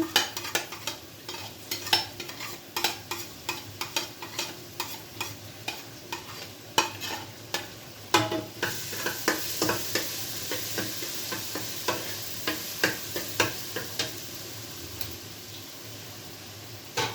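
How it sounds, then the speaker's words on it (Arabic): Garlic fries in very hot ghee, making a continuous crackling sizzle with regular rhythmic scrapes of a spoon stirring the pan, close and fairly loud, with no talking. "افضل احمر فيها بقى لحد ما تديني اللون الذهبي"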